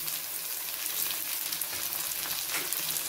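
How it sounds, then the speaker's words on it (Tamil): A single tomato sautéing with onions in a pan for an idly egg fry masala produces a dense, continuous sizzle with bright crackling that stays steady and close throughout, with no talking. "நான் ஒரே தக்காளி தான் போட்டிருக்கேன். போட்டு நல்லா வதக்கிடுறேன்."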